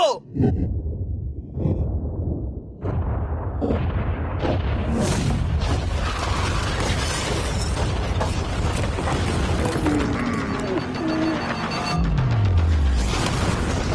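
A yacht loaded with mattresses explodes in a loud, sustained roar that starts sharply and rumbles on for many seconds, with excited voices mixed in.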